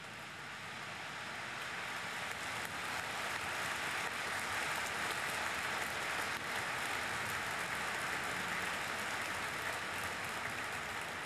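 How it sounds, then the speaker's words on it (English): Dense crowd applause outside an abbey, heard from within as a continuous, faint, even patter like pebbles rattling on a roof, swelling slightly then holding steady for over ten seconds. "I didn't realize it was people clapping outside."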